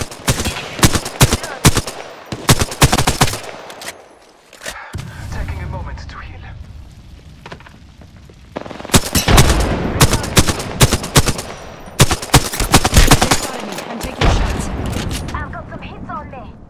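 Rapid automatic gunfire and single shots in the Apex Legends battle royale game, loud bursts in clusters with short pauses, mixed with game sound effects and booming impacts.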